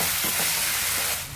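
Tomatoes frying in a pan while being stirred, a steady broadband sizzle with soft scraping stir strokes, close and continuous, easing slightly at the end.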